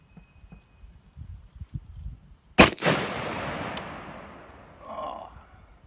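A PSA AR10 rifle chambered in 6.5 Creedmoor fires a single sharp, loud shot outdoors, followed by a long fading echo, with quiet shuffling before it and a faint murmur afterward.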